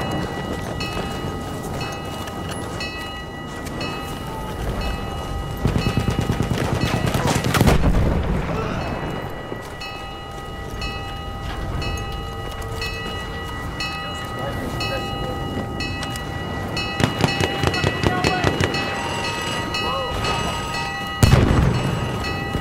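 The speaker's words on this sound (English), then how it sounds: "Wait for the enemy artillery barrage to stop firing." Heavy enemy artillery barrage in the Battlefield 1 Sinai Desert battle, with deep booming impacts and scattered gunfire rolling over steady battlefield noise, the loudest blasts near the middle and end.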